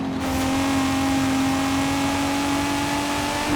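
2018 Camaro ZL1 1LE engine in Forza Horizon 5, a steady droning engine note holding an even pitch, loud and alone.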